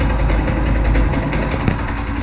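A brand-new Predator 212 small gas engine on a pit cart runs loud and steady, a rough buzzing drone with a rattly low rumble that holds throughout.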